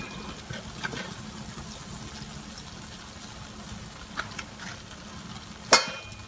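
Zalabia frying in oil gives off a soft, continuous bubbling hiss at close range, broken by a few faint clinks and one sharp tap near the end.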